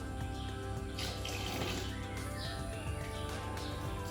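A steady, faint rush of vinegar streams into a container while making elderflower champagne, continuous and even, with a soft background hiss and no talking.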